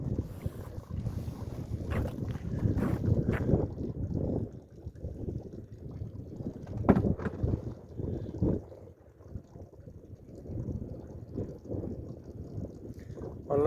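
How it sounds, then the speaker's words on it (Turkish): Steady cold winter wind outdoors, buffeting with broadband rumble and gusts hitting the microphone, continuous throughout, no talking. "bir rüzgar var. Bir kesiyor arkadaşlar. Soğuk, ayaz yani."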